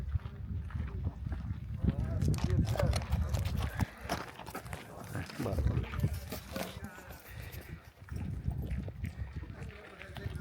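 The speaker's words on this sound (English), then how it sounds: "Hold this horse." Horse hooves clip-clopping on an outdoor path in Petra, Jordan, a steady stream of knocks under constant wind and people talking nearby.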